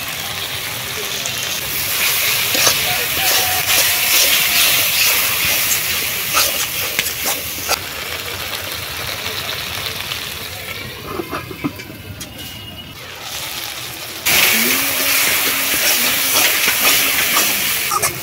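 Red prawns sizzle in a pan while being sautéed with ground mustard and cumin paste, a loud, steady hiss that drops briefly midway and then surges back up.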